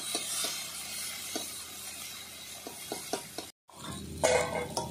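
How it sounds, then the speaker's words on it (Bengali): Shrimp frying lightly in a little oil in a pan, a steady close sizzle broken by light clinks and stirring knocks, a brief gap, then a louder burst of sizzling. "এবার আমি চিংড়ি মাছটা হালকা করে একটু লাল করে নেব। প্রথমে অল্প তেলে ভেজে নিচ্ছি।"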